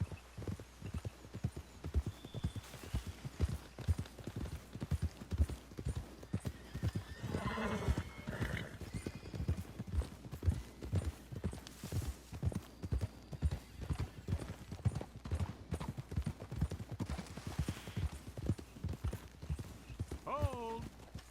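Horses in Red Dead Redemption 2 walk along a trail, their hooves clip-clopping in a steady, close rhythm throughout, with a couple of whinnies and snorts rising above the hoofbeats.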